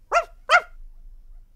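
Two quick, clear dog barks close by in a Swedish children's story, with quiet afterward and no talking.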